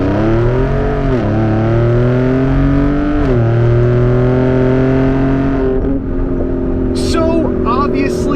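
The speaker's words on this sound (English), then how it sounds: "hard pull in the F-150 Raptor" A Ford F-150 Raptor V6 bi-turbo pulls hard in sport mode, its engine rising steadily in pitch through two quick gear shifts before easing off, loud and continuous from inside the cab, with brief chatter near the end.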